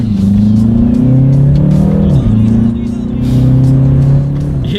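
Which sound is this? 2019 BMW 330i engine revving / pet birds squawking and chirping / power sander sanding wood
2019 BMW 330i engine revving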